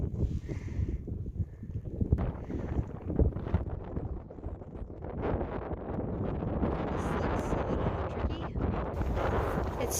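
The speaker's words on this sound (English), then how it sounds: "It's still too windy for any real trail chats." Wind gusts across a rocky desert trail near the Crazy Cook Monument at sunrise, a continuous low buffeting rumble on the microphone that strengthens over time, mixed with faint footstep-like crunches and no talk.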